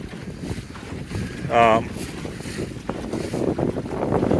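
A Welsford Navigator sailboat double-reefed in high wind, heard as steady gusting wind buffeting and water rushing along the hull, with a brief tonal whine partway through and loud microphone wind noise throughout.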